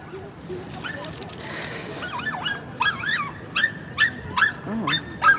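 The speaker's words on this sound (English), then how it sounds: "a dog in the baby carriage" Small dog riding in a baby carriage on a New York City street, barking in a run of sharp, near yips and barks that grow louder and more frequent, over steady outdoor street noise.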